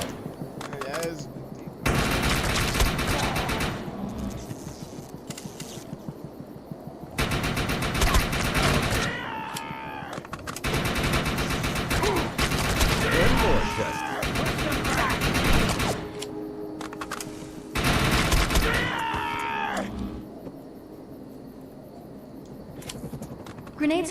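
Gunfire in the shooter game Defiance 2050, bursts of rapid automatic fire in several long volleys separated by quieter gaps, loud and close, with game voices in between.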